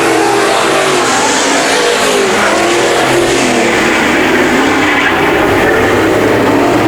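Race cars in a heat race at Bakersfield Speedway roar past in a loud, continuous engine drone, close and dense, with a slight swell in the middle and no commentary heard.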